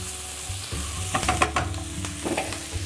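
Onions and thyme sauté in a pan for a pork roast onion gravy, with a steady close sizzle broken by several sharp scraping stirs in the middle. No one speaks.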